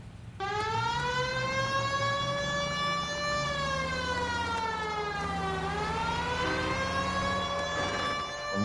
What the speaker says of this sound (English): The siren, Cole. Use it.